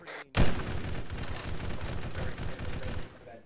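Sustained automatic gunfire in Arma 3, a loud opening blast followed by a continuous rattling burst of rapid shots for about three seconds, with faint voices mixed underneath.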